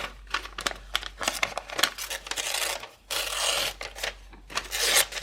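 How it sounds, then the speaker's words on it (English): A flower-printed page torn roughly out of a book, heard close up as a run of crinkling, ripping paper rasps with short pauses and bursts, loud and continuous with no talking. "So just I'm going to roughly tear it out."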